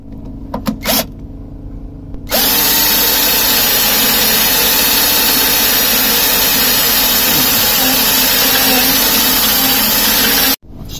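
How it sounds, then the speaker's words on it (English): A power drill runs steadily and loudly for about eight seconds while drilling and countersinking boat supports, starting abruptly and cutting off near the end. "Drilled and countersunk one of these"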